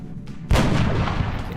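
A single heavy sniper rifle shot in the turn-based strategy game XCOM: Enemy Unknown, one sudden loud boom followed by a rumbling, decaying tail, with no talking.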